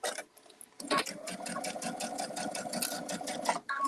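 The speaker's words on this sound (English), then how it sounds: "just kind of baste this together real quick" A sewing machine basts fabric for a star pillow, a close rapid mechanical whir in a few short bursts with brief pauses between stitches.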